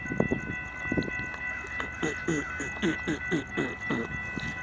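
A train on the Florida East Coast Railway rolls past nearby, its rhythmic clacking and rumble carrying over a steady background hum with high tonal whine throughout.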